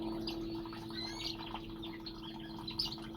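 A star finch chirps inside a bird shed, several short high tweets scattered over a steady low mechanical hum, with other small birds calling faintly nearby.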